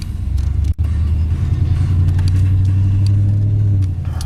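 A pickup truck with a trailer brake controller, in like-new condition, pulls away with a steady, loud low engine rumble that holds evenly after a brief dropout.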